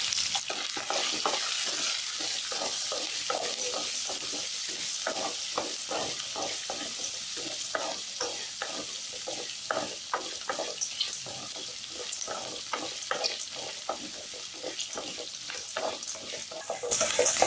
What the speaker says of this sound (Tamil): பெருங்காயம் சேர்த்துடலாங்க. வெங்காயம் சேர்த்துடலாம். சேர்த்துட்டு நல்லா வதக்கலாம்.